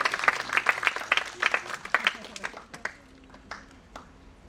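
Audience applause at the SAHIT 2024 awards ceremony, a dense burst of many hands clapping that thins out into scattered claps and fades over a few seconds.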